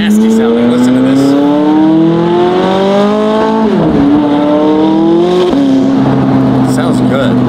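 A 6M5LT supercar's engine revs hard and close, its rising harmonic pitch climbing steadily, dipping briefly, then climbing again, loud and snarling throughout.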